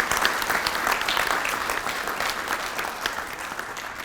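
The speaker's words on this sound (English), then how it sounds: "if you could give her a huge round of applause" Dense, steady applause from an audience at the Hilton Hall of Fame 2025 ceremony, loud and continuous throughout without pause, no voices standing out.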